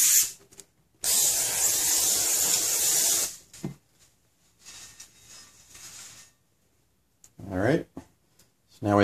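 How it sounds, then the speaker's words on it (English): Brake parts cleaner blasts from an aerosol can onto new brake rotors in a loud two-second hiss, followed by a few short spurts, with someone talking between bursts. "So a little bit of brake parts cleaner."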